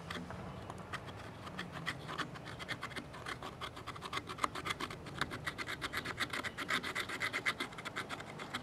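Knife blade scraping a piece of tinder wood into fine shavings for a firesteel, a close rhythmic rasping with repeated quick strokes that grow more regular toward the end.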